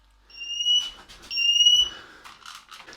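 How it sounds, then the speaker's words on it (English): A kitchen smoke alarm sounds two sharp, shrill electronic beeps while caramel is being cooked for a tarte tatin, followed by softer clattering and faint chirpy noises in an otherwise quiet room. "Smoke alarm is not happy with this one."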